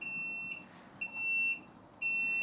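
A homebrewing controller beeps after its set button is pressed, giving three sharp, high electronic tones in an uneven rhythm over a low background hum, close and clear with no talking.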